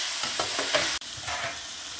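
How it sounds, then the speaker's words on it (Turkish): Liver sautéed with black pepper, cumin and chili flakes sizzles steadily in a pan, with a few scraping stirs and a sharp clack midway, close and alone. "Şu baharatlarıyla birlikte bir 10 dakika daha kavuracağım."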